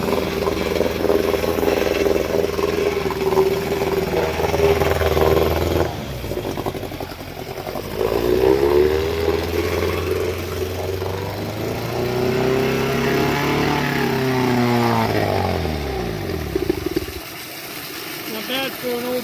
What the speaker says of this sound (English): Not bad for an old motor.